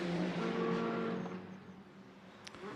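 A GT2 race car during qualifying at Hockenheim circuit, engine tone sweeping down as it passes, fairly distant and fading, with a short sharp sound near the end.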